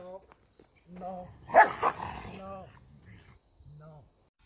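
A Malinois shelter dog gives a few short barks and growling sounds at close range, interspersed with a person talking.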